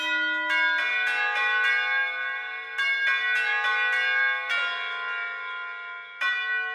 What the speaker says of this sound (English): So we found these like samples of bell chimes combined with some synths.